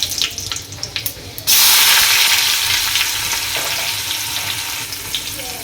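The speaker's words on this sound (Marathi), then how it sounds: "आता जिरं टाकायचं मोहरी टाकायची कढीपत्ता आणि कांदा" Cumin, mustard seeds, curry leaves and onion drop into hot oil for a dal tadka, setting off a loud, sudden burst of sizzling that settles into a steady crackling fry after a few quieter stirring taps.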